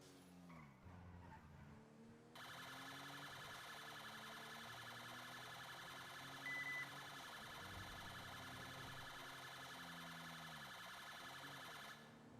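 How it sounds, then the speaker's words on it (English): A police car siren in the GTA V FiveM video game, a British police roleplay, wails continuously over rumbling engine and tyre noise, holding a steady, loud electronic tone for most of the stretch. "sirens only go to 1 at the moment"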